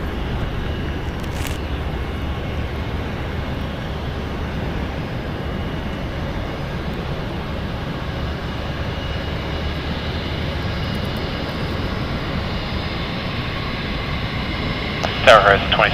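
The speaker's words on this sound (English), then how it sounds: "departing is United Airlines flight 1770. Going to EWR, it's a Boeing 757-200, 24 years old." A 24-year-old United Airlines Boeing 757-200 departs San Francisco International Airport, its engines a steady broadband roar throughout, distant and even, with a brief louder burst at the very end.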